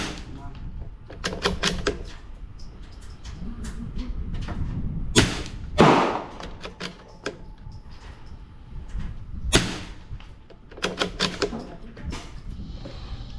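A Ruger Precision Rimfire rifle fires Federal .22 LR rounds at a target on an outdoor range. Sharp, loud cracks come singly and in short clusters with pauses between them, and someone talks around the shots.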